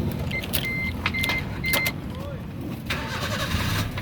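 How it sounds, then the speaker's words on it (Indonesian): A 2012 Suzuki Splash 1.2 GL manual hatchback is started, with a brief starter crank and the engine catching, preceded by short clicks and beeps; close and moderately loud, with a person speaking over it. "coba kita nyalakan mobil"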